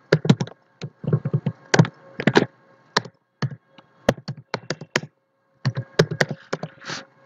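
Fingers type a username on a computer keyboard, a close, crisp flurry of irregular key clicks in quick bursts with brief pauses, alone without talk.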